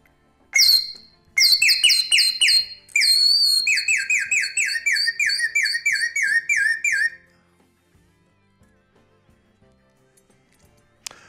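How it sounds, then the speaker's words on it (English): A slide whistle plays alone: a few gliding swoops, then a rapid run of short warbling chirps, followed by quiet. "The slide whistle, one of my favorite toys."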